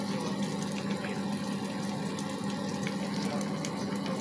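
Water runs from a tap into a small pot of rice for plov, a steady, soft gushing stream with no speech.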